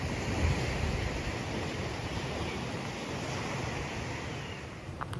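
Waves washing onto Pak Meng Beach in Trang, Thailand, a continuous broad surf roar with some wind noise, steady and fairly loud throughout.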